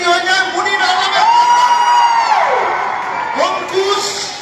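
A crowd at a live stage event in Berhampur whoops and cheers loudly for Munir Alam, a dense roar of voices with rising shouts and whistles sustained throughout.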